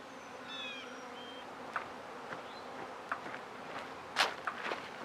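Honeybees working spring flowers make a faint, steady hum, with scattered bird chirps and a few soft clicks and rustles close by.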